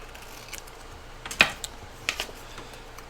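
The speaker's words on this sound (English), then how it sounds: "So we're just going to do a rough cut" A few faint, crisp snips of scissors rough-cutting a small piece of paper for a handmade folio, spaced irregularly over a quiet background.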